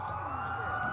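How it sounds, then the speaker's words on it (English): A police siren in the video game Watch Dogs wails steadily for a brief moment, its pitch holding high and loud. "A lot of sirens for a blackout."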